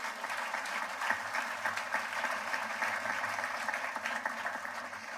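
A graduation commencement audience at Bermuda College applauding for Kristen White, dense steady clapping from a large crowd sustained throughout at an even level.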